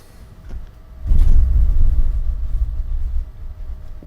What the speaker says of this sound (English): Ooh, did you hear that? That was thunder.